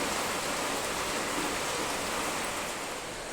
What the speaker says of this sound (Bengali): আর কি জোর বৃষ্টি নেমে গেছে